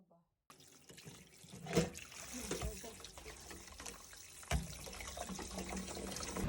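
Raw shrimp being rinsed clean under a running kitchen tap, with a steady splashing water stream and a couple of louder bursts as the shrimp are handled, while a person talks over it.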